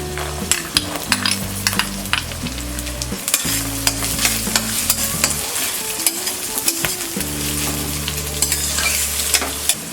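Onions and green peas frying in oil in a pan for bread roll filling, a loud continuous sizzle with regular clinks and scrapes of stirring, over a soft background music tone.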